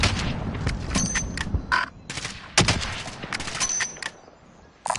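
Gunfire crackles in Call of Duty Warzone, with bursts of rapid automatic shots and single cracks in irregular clusters, some close and loud, others more distant, alongside metallic game effects, with no talking.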